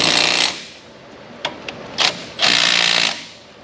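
Impact wrench bursts on a truck brake caliper: a loud sustained burst, a few short clicks and rattles, then another long loud burst near the end.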